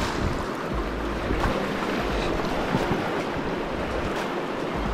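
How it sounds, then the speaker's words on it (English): Fast-flowing river water rushes steadily at close range, a dense continuous wash with wind buffeting the microphone, heard while wading across a stream in fishing waders. "water's a little faster than normal right here"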